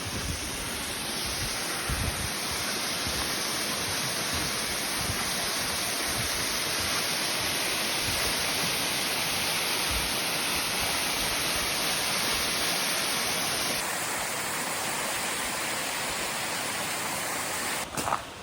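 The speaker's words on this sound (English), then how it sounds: "Over here, see a little waterfall." A small waterfall rushes continuously in an outdoor walking area, a loud, steady broadband wash of falling water that stays constant throughout with no talking.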